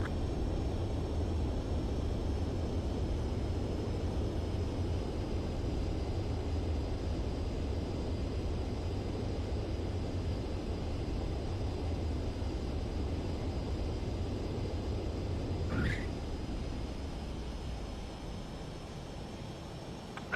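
A MiG-29 jet touches down on an aircraft carrier in the Ace Combat 7 video game, with a steady, loud engine rumble and airflow throughout and a brief sharp transient near the end.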